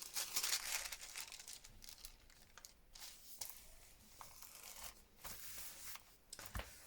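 Sheet of paper crinkling and rustling as it is pressed down onto glue for a junk journal craft page, close and quiet, in short irregular crackles and soft handling sounds.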